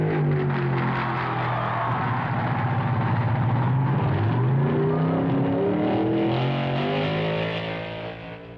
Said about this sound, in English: Tom Pass from Minnesota pushes his Chevrolet to a winning speed of 98 miles per hour